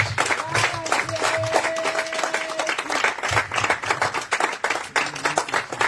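Church congregation clapping during a prayer service, rhythmic group handclaps under singing and voices, moderately loud and close, with a pulsing beat throughout.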